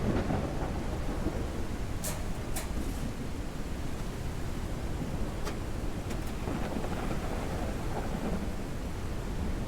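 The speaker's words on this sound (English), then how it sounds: "It's raining sideways." Heavy storm rain pours steadily in a video game world, wind-driven sideways, with a few sharp crackles of thunder rising over the dense hiss throughout.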